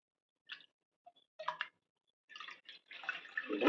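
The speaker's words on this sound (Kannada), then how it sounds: "ಇದನ್ನು ಚೆನ್ನಾಗಿ ಬಿಗಿಯಾಗೆ ಹಿಂಡ್ಕೊಂಡಿಡಬೇಕು" Water drips and trickles from a cloth of homemade paneer being squeezed tight after a cold-water rinse, with a few faint isolated drops early on building to a louder, steadier run of dripping at the end.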